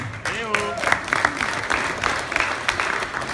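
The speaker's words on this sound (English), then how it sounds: "Give a round of applause for him." Applause from a wedding reception crowd with steady clapping, mixed with voices talking and cheering over it.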